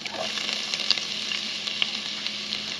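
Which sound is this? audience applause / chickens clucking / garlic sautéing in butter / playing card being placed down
garlic sautéing in butter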